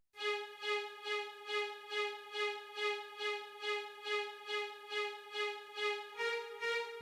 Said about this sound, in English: And then we got two violas that's again playing the same as the xylophone